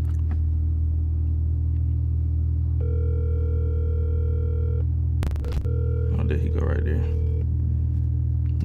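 A phone call rings out through a handset, with a steady tone held for about two seconds over constant low car-interior rumble, followed by a loud knock and brief clattering.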